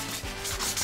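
Sandpaper scrubs back and forth over a hand-carved wooden doll in quick, steady rubbing strokes, close and alone with no talking.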